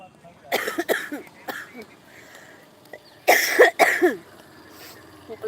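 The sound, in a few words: coughing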